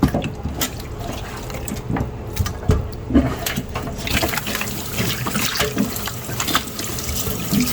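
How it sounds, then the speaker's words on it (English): Chicken rinsed under a running kitchen tap, water splashing and trickling into the sink with intermittent handling clatter, close and continuous. "So now time to give it a little rinse."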